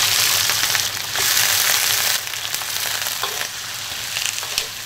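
Soft-shelled turtle goes into a hot wok with dried chili, ginger, garlic and scallion in rapeseed oil and lard. It fries with a loud, steady sizzle, broken by the scrape and clatter of stirring.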